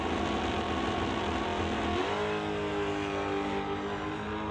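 A Chevelle drag race car engine at an NHRA Summit ET bracket event roars steadily, then settles into a lower held rev, loud and close with no pause.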